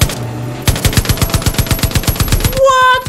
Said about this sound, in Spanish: Tengo una ametralladora integrada en el camión.